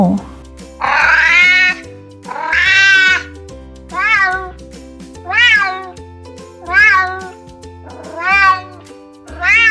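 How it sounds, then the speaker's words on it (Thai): A cat meows repeatedly, about seven clear, loud calls with short pauses between them, over a faint steady background tone. "แมว"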